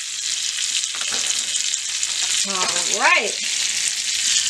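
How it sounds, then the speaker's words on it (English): Pork loin fries on a stovetop with a loud, steady sizzle and crackle that runs throughout, while someone speaks briefly over it. "Cook them on the stove for a little bit on the bottom and on the top."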